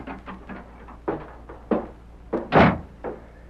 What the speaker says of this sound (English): Red Murphy looked up in surprise at the sound of the door